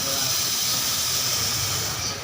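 A mosquito fogging machine sprays smoke with a loud, steady rushing hiss that holds constant throughout, close by.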